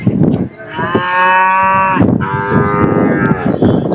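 Cattle at the Kundadam cattle market, a livestock fair of Kangeyam breed cattle, give long, loud, near moos in sustained calls, one after another. Crowd noise sits underneath.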